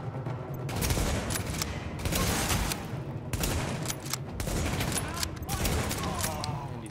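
Carbine fire in the video game The Division, repeated bursts of rapid shots at moderate loudness with brief gaps between volleys and steady game ambience underneath.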